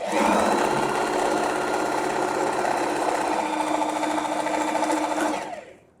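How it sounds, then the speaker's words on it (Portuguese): Sewing machine stitching a dish towel, a loud close steady mechanical whir running continuously before winding down at the end. "vai baixar o pé calcador, iniciar com retrocesso, e vai costurar"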